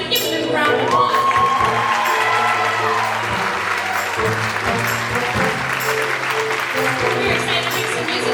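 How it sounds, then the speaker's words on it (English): An audience at a school spring band concert applauds a jazz band with dense, sustained clapping that fills the hall, loud and continuous, while a voice speaks over the start and a brief tone sounds early on. "Give them a round of applause."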